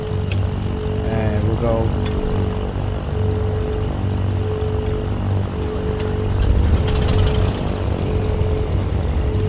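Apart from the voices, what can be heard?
Cessna 414 right engine starting in Microsoft Flight Simulator video game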